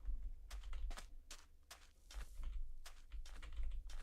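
Quiet typing on a computer keyboard, with irregular bursts of individual keystrokes clicking at a moderate pace and no voices.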